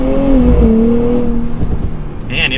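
2024 Nissan Z Nismo engine and exhaust while driving, a loud sustained drone holding steady then dipping in pitch between shifts, with rumbling road noise underneath.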